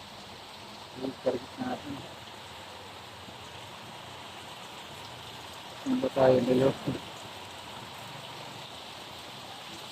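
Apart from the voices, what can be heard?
heavy rain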